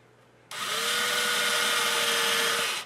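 A power drill starts abruptly and whines steadily at high speed for a couple of seconds while drilling into the wooden body of a bass guitar kit for the bridge, close and loud, then winds down.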